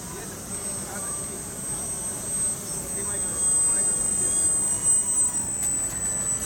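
A seaplane's engine drones steadily as the aircraft comes in to land over the Love River, a moderate, even hum running the whole time beneath people talking.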